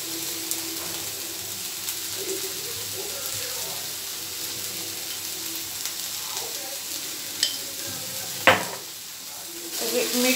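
Potato sabzi with salt stirred in a pan, a continuous low sizzle with scraping spatula strokes and a sharper metallic clack toward the end.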